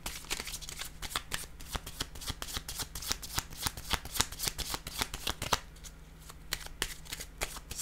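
Tarot cards are shuffled close by in quick, crisp riffles and slides. The rhythm is dense and rapid, pauses briefly near the end, then continues with no talking.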